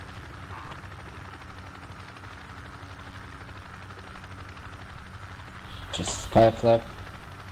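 A helicopter in the military shooter game Project Reality gives off a steady, droning rotor and engine rumble, and brief voices break in near the end.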